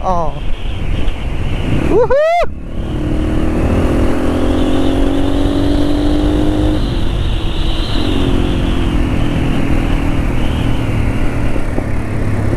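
A dirt bike engine drones steadily under heavy wind noise on a ride near Manahari, Hetauda, with a brief high whistling sweep early on and engine tones shifting as the bike moves.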